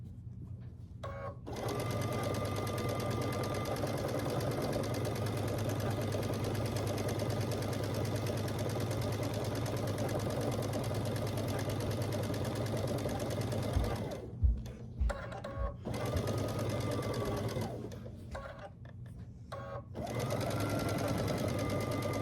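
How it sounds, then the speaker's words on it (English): A sewing machine stitches a row of a scrappy star quilt at a quarter-inch seam, running steadily and close for long stretches with a few brief stops and restarts. "I'm just stitching down this row at 1/4 inch"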